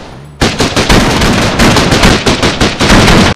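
A Bison submachine gun in DayZ Standalone fires one long loud rapid burst, close and dense, after a brief quiet start.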